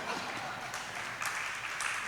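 An audience at a religious discourse applauding, a dense, fairly distant wash of clapping that holds steady for a couple of seconds with no clear speech over it.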